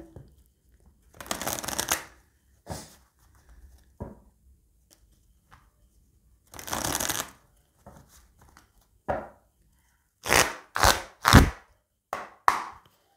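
Tarot cards shuffled and cut by hand: two longer riffling bursts followed by a quick run of sharp, close snaps and slaps as the deck is split and stacked, with quiet gaps between and no talk.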